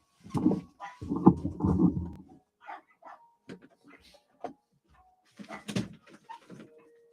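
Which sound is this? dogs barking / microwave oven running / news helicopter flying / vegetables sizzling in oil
dogs barking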